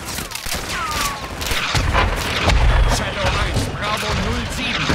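Artillery fire in Call of Duty: Modern Warfare II (2022), a dense, loud barrage of booming shots and rumbling impacts rolling continuously, with voices heard over the combat.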